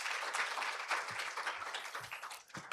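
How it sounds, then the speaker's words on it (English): A symposium audience in a hall applauds, heard as a faint, distant wash of continuous clapping lasting a few seconds. "Please welcome him with a big round of applause."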